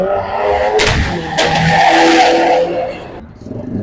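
A car leaving a car meet accelerates hard nearby, engine revving loudly with a sharp rising roar and a brief tire squeal before fading.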